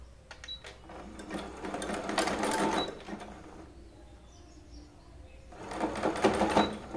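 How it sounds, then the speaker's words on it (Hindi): Sewing machine stitching a sleeve in two bursts of fast, whirring needle action separated by a quieter pause, close by and moderately loud. "अब हम यहाँ पे जो हमने मार्किंग की है वहां से हम इसको सिलाई लगाएंगे।"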